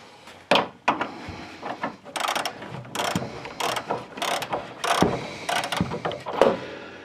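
Extension ratchet working loose a suspension bolt on a car, a string of sharp clicking ratchet bursts in irregular runs, close and fairly loud with no talk.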